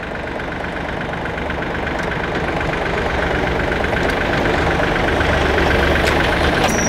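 A Yanmar FX 265 Japanese mini tractor's engine runs steadily and close by, a continuous dense chugging drone with no talk over it.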